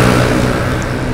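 Honda Beat scooter-style motorcycle engine idling and revving steadily at close range, a continuous loud mid-pitched drone with no voices.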